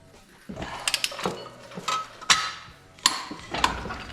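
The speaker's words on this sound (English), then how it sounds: "So with the front crank stabilized, we can then torque these down." Wrench work on flywheel bolts of a BMW E30 325i convertible, with the crank hub held still: several sharp metallic ratchet clicks and clanks arrive in irregular bursts, close by and moderately loud, with no talking.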